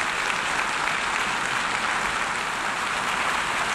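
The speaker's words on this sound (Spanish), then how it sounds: "Las palabras de Abbas, muy aplaudidas" Sustained applause fills the United Nations hall after a speech by Palestinian leader Abbas, a dense, even wash of clapping from a large audience that holds steady throughout, at a moderate distance.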